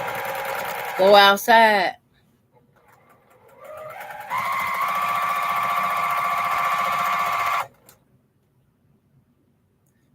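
A home sewing machine stitches a quarter-inch quilt seam, running in a steady mechanical hum for a few seconds after a brief spoken remark.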